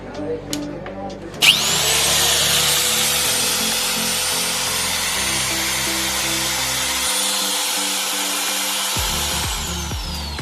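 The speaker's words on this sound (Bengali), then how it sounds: "আপনাদেরকে আরো একটি গ্রাইন্ডিং মেশিন চালু করে দেখাচ্ছি" A G-TEN electric grinding machine switches on after a few clicks and spins up to a steady, loud high whine that holds for several seconds, its pitch dipping slightly near the end.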